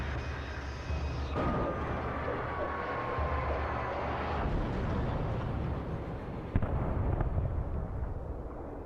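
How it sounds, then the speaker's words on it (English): An explosion in the video game Alan Wake, heavy rumbling blasts rolling over a sustained noisy background, with a sharper boom breaking through near the end. "I like how the explosion sound was delayed."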